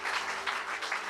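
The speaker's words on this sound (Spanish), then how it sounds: "¿Cuántos le pueden dar un aplauso al Rey?" Faint, distant applause from a church congregation, a brief steady wash of clapping.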